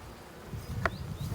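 A short buzzing of a honeybee passing close by at an apiary among lavender fields in Valensole, over low rumbling background noise.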